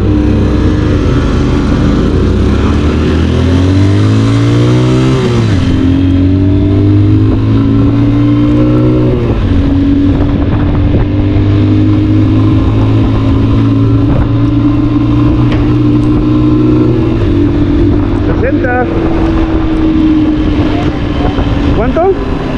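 An Italika DM motorcycle fitted with a competition CDI accelerates hard, its engine note climbing through rising revs and gear changes, loud and close for over twenty seconds, with voices faintly beneath.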